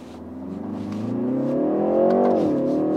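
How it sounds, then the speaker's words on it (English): A BMW G21 3 Series estate launches hard on a track, its engine note climbing steadily in pitch and loudness as it accelerates, then briefly dipping at a gear change near the end, heard from inside the car without talk. "So hard on the brake and floor it really quickly"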